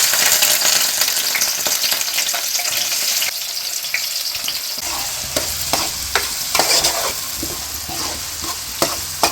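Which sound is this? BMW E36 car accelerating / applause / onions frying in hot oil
onions frying in hot oil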